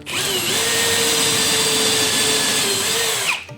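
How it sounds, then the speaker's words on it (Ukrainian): A cordless drill driver bores into an oak block, a loud, sustained high whine that dips slightly in pitch under load and then winds down. "вставляємо наш шуруповерт і пробуємо просверлити ось цей брусок"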